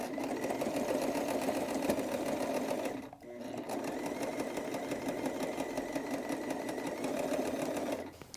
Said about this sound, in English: I got this sewing machine from my friend Sophia.